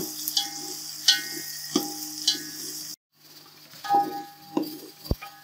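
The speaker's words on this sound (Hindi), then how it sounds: "हल्का ब्राउन करेंगे प्याजों को।" Onions frying in a pan until lightly browned, with a soft steady sizzle, stirring scrapes and a few light clinks of a spoon against the pan, ending in a sharp knock.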